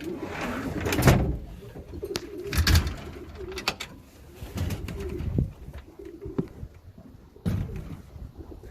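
Racing pigeons coo softly in a loft amid wing flutters, shuffling and occasional knocks and clatters, with intermittent bursts of movement.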